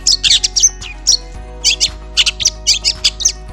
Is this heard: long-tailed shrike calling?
yes